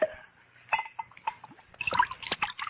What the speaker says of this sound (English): Yes, you can pour me a glass of sherry.